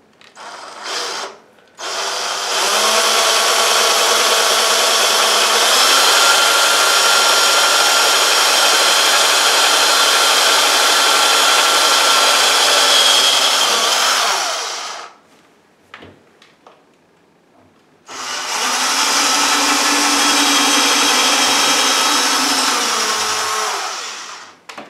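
Power drill boring through the back of a cabinet for a drawer pull, two long, loud, steady whining runs separated by a short pause with small clicks.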